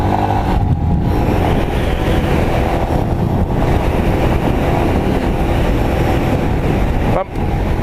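A small adventure bike, a Royal Enfield Himalayan, runs off-road at full speed, its engine roaring loud and steady with heavy wind buffeting and one brief dip near the end.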